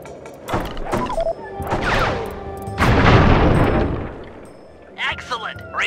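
Fireworks launched in the video game Sly 3 burst as a run of loud booming blasts with crackling tails, building to a dense swell midway and then a few sharper pops near the end.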